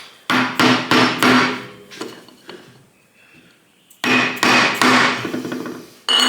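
Sharp metallic hammer taps drive an aluminium drift onto the inner part of a 1979-1984 Harley-Davidson four-speed rotary top gearbox: a quick burst of close blows, a quieter pause with scraping, then another run of firm strikes.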